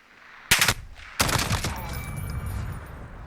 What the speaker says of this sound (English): Or you can even put this in full auto if you want to just tap fire it and get those shots off quicker